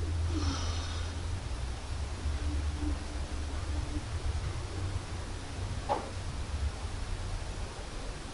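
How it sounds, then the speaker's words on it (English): Slow, deep breathing close to the microphone, with long drawn-out inhales and exhales of about eight seconds each, audible as a soft, steady rushing over faint low background hum. "8 seconds inhale, 8 seconds exhale."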